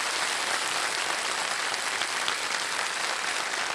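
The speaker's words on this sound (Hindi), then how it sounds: "तालियों के साथ उनका स्वागत किया जाए।" Studio audience on a televised quiz show breaks into sustained applause, a dense, even wash of many hands clapping throughout with no speech over it.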